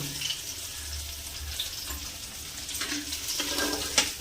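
Catla fish heads sizzling as they fry red in a pan of hot oil, a steady hissing crackle with occasional sharp pops, heard alone and close up.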